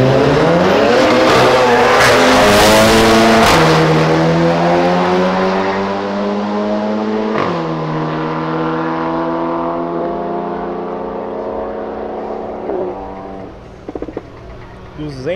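BMW M135 engine screaming at high speed during a street race, a loud, close, sustained roar that climbs through the revs, drops sharply at gear changes and rises again, then gradually eases off toward the end.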